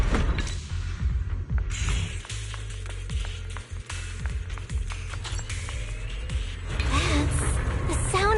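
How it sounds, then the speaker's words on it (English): Factory machinery in the video game Zenless Zone Zero: a dense, steady mechanical hum and grinding wash with scattered clanks and creaks, holding at a fairly constant level throughout. "That's the sound of machinery."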